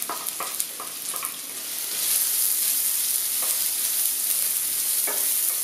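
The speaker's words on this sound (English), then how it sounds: "I really want to warm this up really well and allow the onions to caramelize." Red onions and curry leaves sizzle and crackle in a hot pan, with a few sharp pops early on before the frying settles into a steady, close hiss.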